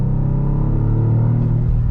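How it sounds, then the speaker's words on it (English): A Toyota GR Corolla rally hot hatch's three-cylinder engine hums and revs steadily under load, a loud, continuous drone with rich low harmonics and no talking over it. "That 3-cylinder just sounds really good"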